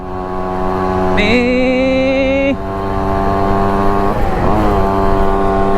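A Yamaha YG-1 Trailmaster, a small four-gear trail motorbike with knobbly tyres, drones loudly in top gear, its engine pitch rising once then dropping and climbing again as the ride continues, close and steady with no speech.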